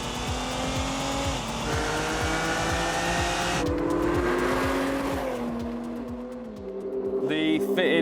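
A tuned diesel car revs and accelerates hard in a rolling race, its loud engine note climbing in steady harmonic sweeps with a brief tire squeal and a shift in tone midway.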